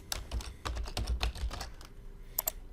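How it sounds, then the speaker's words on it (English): Rapid, uneven clatter of fingers typing on a computer keyboard, close and crisp, then slowing to a couple of final isolated key taps. "And let me type in a sentence or two."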